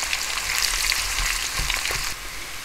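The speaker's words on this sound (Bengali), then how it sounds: "এই পেঁয়াজটাকে আমি হালকা সোনালী হওয়া পর্যন্ত ভেজে নিচ্ছি।" Thinly sliced onion frying in mustard oil for bhuna khichuri, a steady close sizzle and crackle with brief stirring scrapes, no voices.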